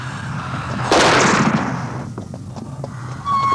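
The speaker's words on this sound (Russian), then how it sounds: "Тарс, стреляй в нее" A gunshot in a 1981 science fiction film: a single loud, sharp burst that decays over about a second into quieter ringing and scattered ticks, followed by a thin high tone.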